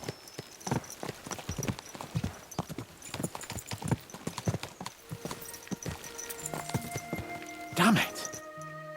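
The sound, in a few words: horses galloping, hooves clip-clopping, in video game Kingdom Come Deliverance 2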